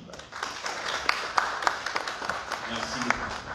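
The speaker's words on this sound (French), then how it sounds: "je pense que ça s'applaudit." Scattered applause from a small group breaks out at a press briefing in Chad, a light patter of clapping heard at a moderate distance.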